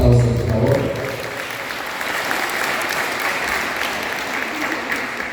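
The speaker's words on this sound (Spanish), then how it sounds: "Fuertes los aplausos, por favor" Thick, continuous applause from an audience at a community council of elders ceremony in Puebla follows the tail of an amplified voice, then holds at an even, full level throughout.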